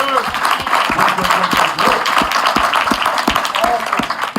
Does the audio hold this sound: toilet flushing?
no